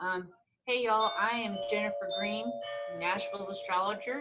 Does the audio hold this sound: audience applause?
no